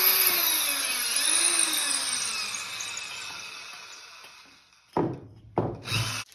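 A power drill bores through a piece of wood stock with a steady high whine that slowly winds down and stops, followed by a few short, loud grinding bursts as the bit bites again.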